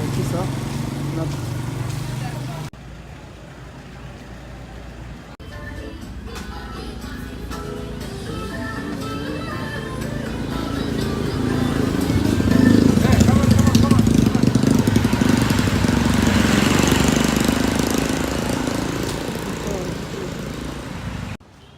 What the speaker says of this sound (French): Il y a plein de scooters.